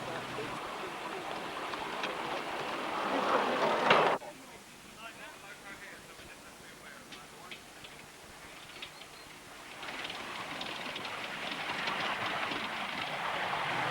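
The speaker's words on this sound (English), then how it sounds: "By comparison to many locomotives, Lady Jane is as quiet as a church mouse. You barely hear her approaching and passing." A 7¼ inch gauge miniature steam locomotive approaches and passes on a society track. It makes a soft, quiet rush that swells briefly, drops away, then rises again as a steady broadband wash.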